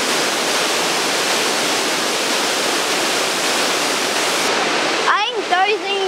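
Loud, steady roar of a waterfall in a quiet natural spot in Croatia, filling the clip as continuous broadband rush before a voice briefly speaks near the end.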